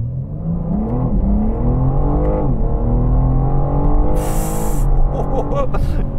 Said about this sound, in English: Now I'm revving it in car, that sound does sound ever so slightly synthesized.